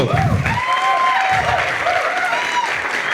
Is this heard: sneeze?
no